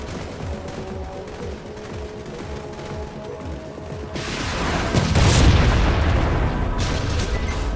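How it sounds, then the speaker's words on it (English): Bomb-drop explosions in an online Halo Master Chief Collection match, a swelling deep rumbling blast midway that builds and lingers after a stretch of steady background sound. "Bomb drop."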